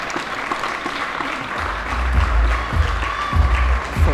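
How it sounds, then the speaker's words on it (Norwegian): Polite crowd applause in Bergen for boxer Morten Dåbu entering the ring, steady clapping throughout, with heavy low booming arena music swelling beneath it in the second half. "Får applaus inn fra høflige bergensere"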